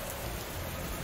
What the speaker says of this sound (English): it seems like it never stops raining here